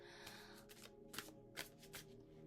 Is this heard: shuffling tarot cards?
yes